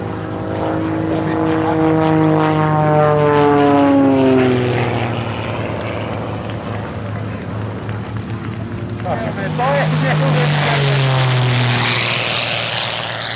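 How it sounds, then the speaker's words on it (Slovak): Aircraft flying past at the Slávnica air show, with aerobatic and historic planes and airliners such as the L-410; a loud propeller drone swells and fades with falling pitch as it passes, then another pass follows, under a commentator's voice. "boli tu krásne prielety dopravných lietadiel L-410, Tupolev, 154"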